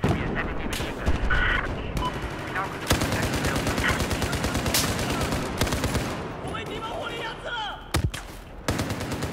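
Gunfire in Battlefield 4, including sniper rifle shots: sharp, loud cracks stand out over a steady backdrop of distant battle noise and automatic fire, with players talking throughout.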